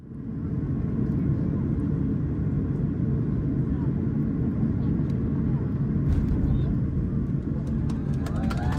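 An Air Greenland Airbus A330-800neo lands, its steady, loud broadband engine and airflow rumble filling the cabin throughout with no break.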